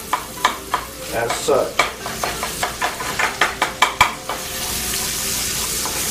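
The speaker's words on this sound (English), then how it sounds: "got this chorizo browning up" Chopped chorizo browns in a pan, sizzling loudly under a run of rhythmic scraping stirs and clinks of the utensil against the pan, then settling into an even frying hiss; a brief spoken word is heard.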